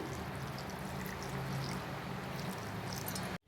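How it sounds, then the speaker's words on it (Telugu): Water pours steadily into a pan with chopped gongura, turmeric and chilli powder before cooking, a close continuous splashing trickle that stops abruptly at the end. "దీనిలోకి ఉడికించుకోవడానికి వాటర్ పోసుకొని"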